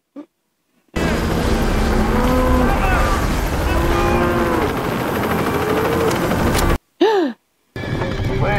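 Cattle bellow on a ranch in a TV drama, several long loud moos layered over a steady rumbling background, with brief cuts to quiet and a sighing voice near the end.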